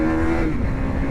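A KTM RC 390 sport motorcycle engine with a bigger airbox and new exhaust revs loudly and close, a throaty growl with a brief rising pitch, heard alone.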